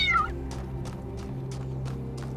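A cat in The Talos Principle 2 lets out one clear rising meow, then soft repeated padding or rustling sounds over a steady low hum; no voices.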